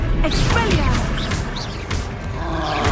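A spell cast in Hogwarts Legacy, a PS video game, bursts out as a loud magical crash and whoosh amid busy combat effects and creature roars, continuous and dense across the moment.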